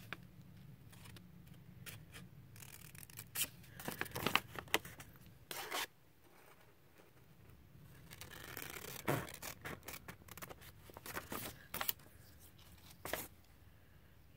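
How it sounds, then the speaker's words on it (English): Scissors snip through a folded paper map in a series of crisp, close cuts and rustles, with irregular bursts of cutting separated by quieter pauses of paper handling. "Yeah, I cut that one a little bit too high."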